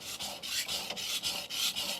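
A steady, rhythmic scraping rasp as a knife bevel is drawn in repeated quick strokes across a Sun Tiger GC220 grit stone, close up and alone.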